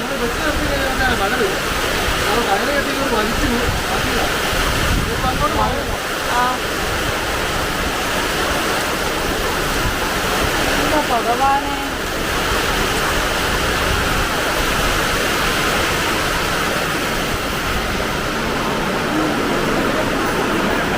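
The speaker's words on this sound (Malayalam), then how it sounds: "ശാംഭവി ഭയങ്കര കാറ്റും മഴ വല്ലതും അറിയുന്നുണ്ടോ" A loud, constant roar of a strong windstorm and heavy rain fills the whole stretch, with occasional faint voices buried underneath.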